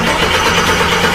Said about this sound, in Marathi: त्या सुनसान रस्त्यावर ती गाडी एक कर्णकर्कश आवाज घेत सुरू झाली